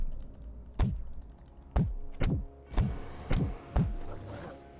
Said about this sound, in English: interesting that you could hear the heartbeat